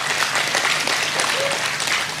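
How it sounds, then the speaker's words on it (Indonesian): Sustained applause from a sizable audience, even and continuous, with faint voices mixed into the clapping. "Tepuk tangan."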